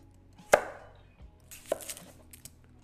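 A kitchen knife chops down through a carrot on a cutting board: two crisp strikes about a second apart, close and clear, followed by a few lighter knocks with no talking.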